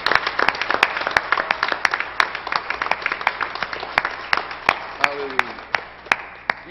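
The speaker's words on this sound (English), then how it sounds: "Give him a hand clap today" Church congregation clapping together in a steady rhythmic beat, sharp regular claps over a wash of crowd noise and voices, with a brief vocal call partway through.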